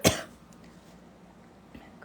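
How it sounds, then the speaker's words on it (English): One sharp, loud cough bursts out at the start, followed by a faint quiet room tone with a tiny soft knock near the end. "Crazy cough."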